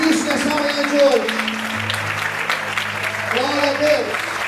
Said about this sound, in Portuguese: Quantos podem aplaudir e exaltar a Cristo nessa manhã de hoje?